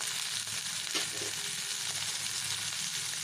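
Onions and tomatoes sautéing in a pan give a steady, even sizzle that holds through the whole stretch, close up and moderately loud, with no talk.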